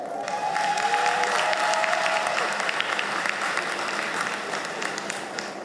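A large commencement ceremony crowd applauds at length, a dense, loud wash of clapping with a few cheers mixed in, steady and then slowly easing.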